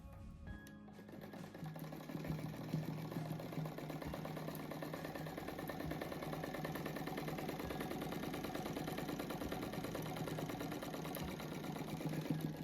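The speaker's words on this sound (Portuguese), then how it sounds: "Encostei no risco, o pezinho da máquina, fiz uma costura." A sewing machine stitches patchwork fabric with a continuous fast mechanical whir and needle chatter, close and steady, with a brief pause at the start before it runs evenly.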